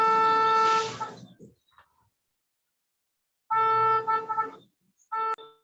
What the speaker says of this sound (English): That's not me honking, I promise.